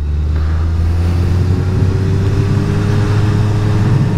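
A 2021 Suzuki Hayabusa motorcycle rides through a town centre, its engine a steady low drone with a faint rising tone, close and loud throughout, with no talking.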